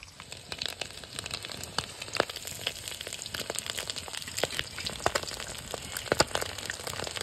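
An egg fries in hot oil in a pan, giving a continuous close sizzle dotted with sharp crackles and pops throughout.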